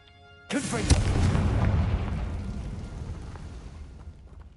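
Bombarda blast spell in the video game Hogwarts Legacy: one sudden loud booming explosion that rumbles and fades slowly over several seconds.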